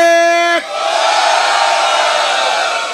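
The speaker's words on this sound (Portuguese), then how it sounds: "Barulho pra quem gostou mais da rima do MC PQ" A brief sustained tone gives way to a loud, roaring crowd at a Brazilian freestyle rap battle cheering and shouting together, continuing steadily to the end.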